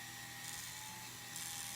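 A small high-pitched drill bores a hole through a transparent prayer bead, giving a steady whining buzz that holds throughout and swells slightly near the end, close by and fairly loud, with no speech.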